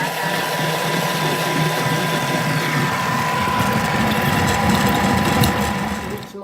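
A Thermomix food processor running at speed 5 with its lid and measuring cup closed, blending a spiced sweet potato flan mixture; a steady, loud mechanical whir and hum holds for several seconds before winding down.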